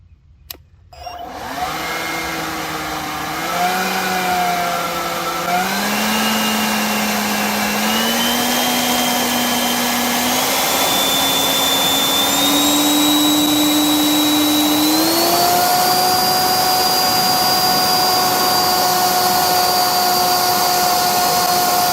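A loud, steady motor whine from a 40-volt, 650 CFM cordless leaf blower that steps up in pitch through its speeds, climbing to a high-speed turbo roar near the end, with no voices.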